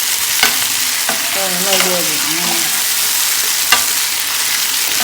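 Eggplant frying in about two teaspoons of oil, a loud close hissing sizzle with a few sharp taps of a spoon against the pan, plus brief tonal sounds in the middle and no talk.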